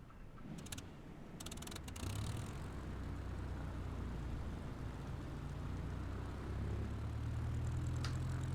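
A light aircraft engine starts up and settles into a steady low drone in the Microsoft Flight Simulator 2020 video game, on a Patagonia bush trip, with a few clicks at the start and the hum rising slightly near the end.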